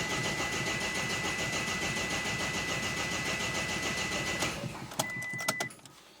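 An Opel Frontera 2.0 diesel engine with a VP44 injection pump cranks steadily with a rapid rhythmic churn for several seconds without catching, then stops, leaving a few clicks.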